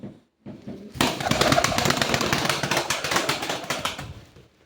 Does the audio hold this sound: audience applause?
no